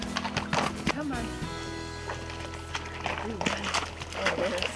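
Horse hooves clip-clopping along a Rocky Mountain wilderness trail during a trail-clearing ride, a steady walking rhythm heard close, with other sounds mixed in.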